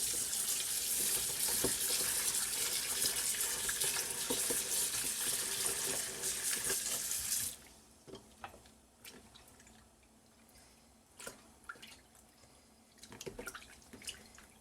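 Tap water gushes into a sink while octopus is washed, a steady loud splashing stream for about seven seconds, then it stops, leaving scattered drips and small wet clatters with no talking.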